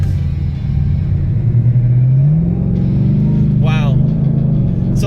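A Chevrolet Corvette ZR-1 accelerates hard in a roll race, its engine droning loud and close with the pitch climbing steadily. A short high whine and scraping noise cut in near the end.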